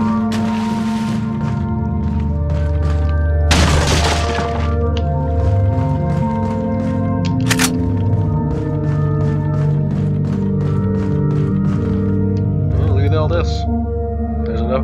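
Wooden barrels being smashed in the video game Resident Evil 4: a few sharp, crunching breaks spaced several seconds apart over steady game music and ambience.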